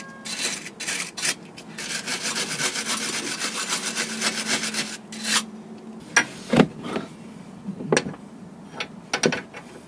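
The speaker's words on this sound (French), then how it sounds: "Un petit coup de brosse métallique." A wire brush is scrubbed hard across a suspension bolt during a suspension wishbone change, a rapid run of rasping strokes up close, then a few scattered scrapes and knocks.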